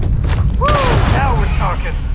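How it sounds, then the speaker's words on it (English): Grenade blasts in the sci-fi video game Starfield, a dense run of booming thuds and rumbling bursts under continuous loud combat noise, with a voice talking over the fighting. "Sam, this is the perfect time to start throwing grenades, bro."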